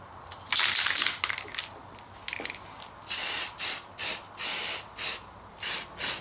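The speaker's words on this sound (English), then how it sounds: "I'm going to spray it with some undercoat first and then give it a top coat of a gloss black" An aerosol can of undercoat primer sprays a toy Darth Vader lightsaber hilt: a few short irregular hisses, then a run of about eight loud, even bursts of spray with brief gaps between them, close by and without voices.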